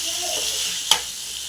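Egg-potato curry sautéed in a hot pan as hot water goes in, giving a steady, loud hissing sizzle with one sharp clink partway through.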